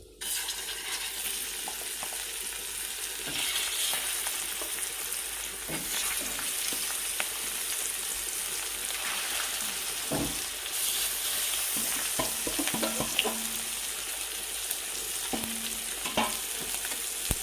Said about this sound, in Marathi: तेल गरम झालंय तर टाकून घेऊ आपली मच्छी सो एक एक सोडू त्याला